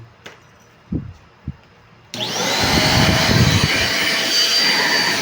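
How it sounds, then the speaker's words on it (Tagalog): A vacuum cleaner switches on after a few soft knocks and runs loud and steady with strong suction, a sustained roaring whine filling the rest of the moment. "Ang lakas ng suction niya guys"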